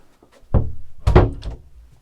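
A door on a 2004 Cara Marine 18 metre motor yacht closes nearby with a solid thunk, followed by a second heavier knock and brief rattling as it settles.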